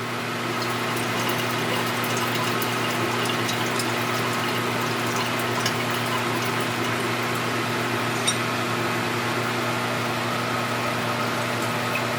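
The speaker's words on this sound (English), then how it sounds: "Get all that SMB rinsed off of there." Steady water running while refined gold is rinsed clean of SMB solution, a continuous even flow with a constant low hum underneath and no pauses.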